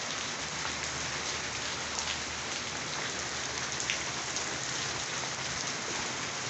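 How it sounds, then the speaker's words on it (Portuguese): Heavy rain falls steadily on garden plants, making a dense, even hiss of drops on leaves that holds without a break for several seconds, with no voices. "chovendo bastante mesmo"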